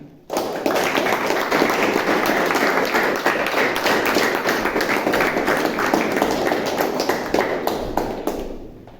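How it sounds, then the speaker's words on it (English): Audience applause welcoming a speaker at a Toastmasters club meeting, a steady wash of many hands clapping close by that swells quickly, holds for several seconds and tapers at the end, with no talk over it. "So please welcome with a thunderous applause to Toastmaster Jitendra Mishra"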